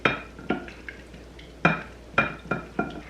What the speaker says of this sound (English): I'm gonna mix it up real quick so that it's